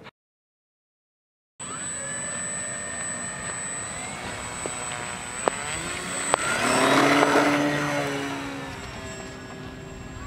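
A WZrc Edge540 RC aerobatic plane, 1,100 mm span with an 11.7 propeller, flies overhead. After a second of silence its engine drones steadily, a high whine rising and swelling louder as it passes closer.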